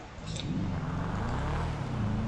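A car engine in GTA Online, a steady low drone holding at an even pitch, close and continuous with no talk over it.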